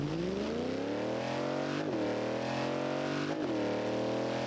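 Race car engine in BeamNG revving hard under full throttle, pitch climbing in long sweeps with two brief dips at gear changes before rising again, loud and close with no voices.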